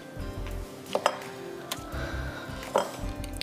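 Metal and ceramic clinks come as a beater and mixing bowl are set down in a kitchen while making cookies and cream ice cream, a few sharp knocks spread over soft background noise.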